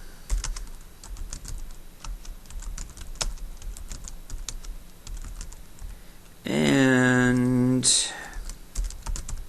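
Rapid, light clicks of typing on a computer keyboard patter steadily and close by, interrupted midway by a brief spoken word before the keystrokes resume.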